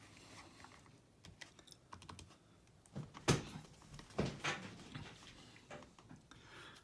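Calculator keys pressed one after another, giving a few soft, scattered plastic clicks over quiet room noise, with a couple of louder taps in the middle.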